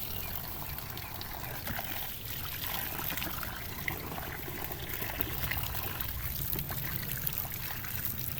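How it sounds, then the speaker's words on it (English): Outdoors, items are rinsed with rainwater drawn from a barrel, giving a continuous splashing, trickling wash of water that stays fairly steady and close throughout. "I'm going to give these things a quick rinse before I take them inside."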